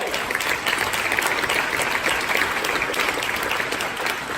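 Audience applause at a keynote address, a steady dense wash of many hands clapping that fills the room evenly and continues without pause.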